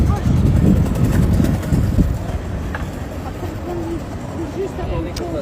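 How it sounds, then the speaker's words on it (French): Wind blows outdoors as gusty, rumbling buffeting on the microphone, strongest at first and then easing to a steady lower roar while a person talks over it. "Il y a un peu de vent."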